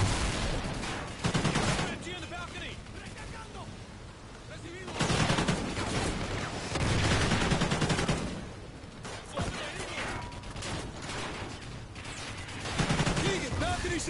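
Machine gun fire in the Call of Duty Ghosts video game, with dense, loud bursts of rapid shots and crashes rolling on and off, mixed with battle noise and voices.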